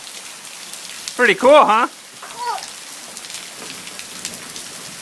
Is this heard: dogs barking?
no